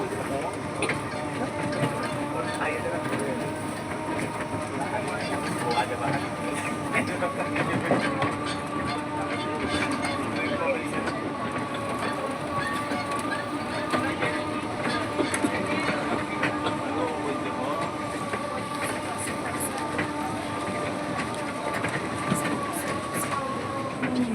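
An electric toy train at Digha runs continuously with a steady rattling clatter and mechanical hum, with voices faintly mixed into the background.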